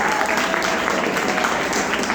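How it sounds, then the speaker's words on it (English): Applause from a school audience, a dense steady patter of many hands clapping throughout, loud and close with a faint murmur of voices mixed in. "Give a huge round of applause."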